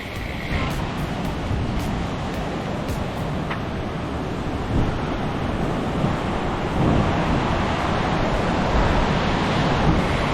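A broad, steady rush of a fast-flowing glacier meltwater stream in the Alps fills the air, loud and constant, with some wind buffeting the microphone.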